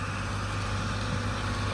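A tractor pulls a 20-foot-wide batwing mower through overgrown grass, giving a steady, loud engine drone with broadband rushing noise and no voices.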